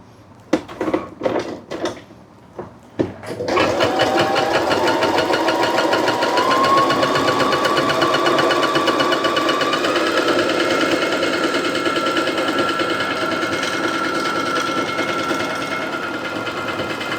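Brother JA1400 sewing machine stitching on setting 14, starting after a few handling clicks with a steady, loud, continuous mechanical whir and rapid needle clatter, alone without voices.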